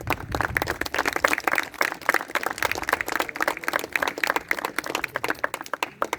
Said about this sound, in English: Let's have a huge round of applause for our dignitaries.